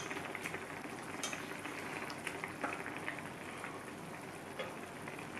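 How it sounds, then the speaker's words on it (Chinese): Food pan-frying in a sukiyaki hot pot with fatty beef, a steady bubbling sizzle that runs the whole time, with faint clinks of utensils on top. "我帮你煎啊"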